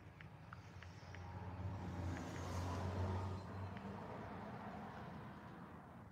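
Road traffic with cars passing, a steady low engine rumble that swells to a louder pass around the middle and then eases, with faint horn-like tones and background noise.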